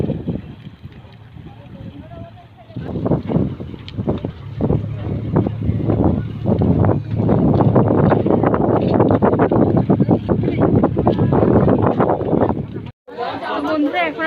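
A passenger launch arrives at an outdoor river jetty near Diamond Harbour, with a low, steady engine drone under wind buffeting on the microphone and a busy crowd chattering close by, while someone talks over it.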